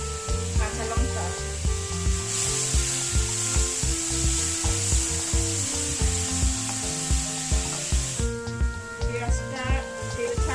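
Chopped onion, ginger and green chili frying in oil for onion kachori, with a steady hiss and sizzle under rhythmic, regular scraping and stirring of a spatula against the pan, continuous and close, while music plays in the background.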